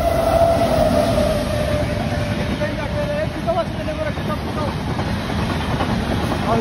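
A train rolls steadily past at close range, its broadband rumble and rattle holding loud and constant throughout, with a faint whining tone along the rails fading midway.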